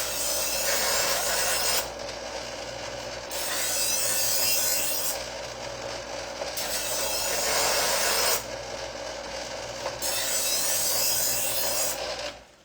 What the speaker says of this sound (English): puts a new edge on the knife. It kind of burrs it a little bit, takes off the nicks